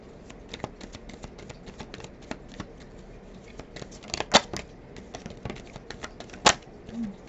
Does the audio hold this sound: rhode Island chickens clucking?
no